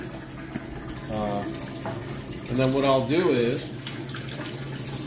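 Water running into a poultry scalder tank, a steady gushing flow with bubbling swells, heard under someone speaking nearby.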